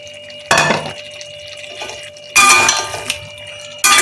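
Prawns drop into a yogurt-based masala in a pot in three distinct wet splashes and clatters, separated by quiet gaps, close and fairly loud.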